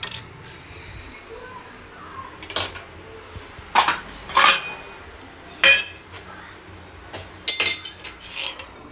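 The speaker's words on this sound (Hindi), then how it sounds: "तो टमाटर भी काट लिया मैंने" A knife cuts tomatoes in a home kitchen, making a string of sharp, close clinks and knocks on a board or plate at uneven intervals over quiet background noise.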